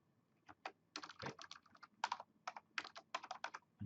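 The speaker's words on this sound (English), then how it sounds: "When it said save, I was typing save." A computer keyboard clicks in uneven bursts of quick keystrokes, close and crisp, with short pauses between groups of presses and no voices.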